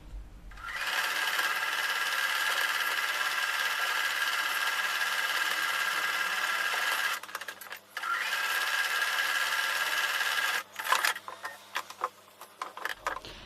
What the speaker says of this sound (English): I'm going to take that back over to the sewing machine and sew with a 1/4 inch seam